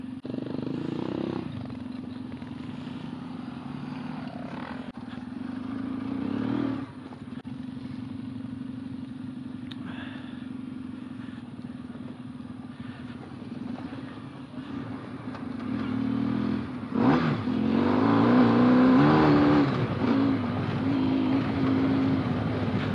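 An off-road vehicle's engine runs steadily throughout, then roars louder as it accelerates near the end, close by with clattering from the rough terrain.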